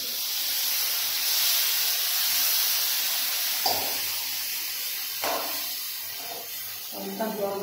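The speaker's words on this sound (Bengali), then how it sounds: "এখন অল্প হালকা জল দিয়ে দিব," A splash of water hits okra frying with poppy seeds, setting off a loud, broad hiss and sizzle close by that slowly fades, with a few brief voice sounds near the end.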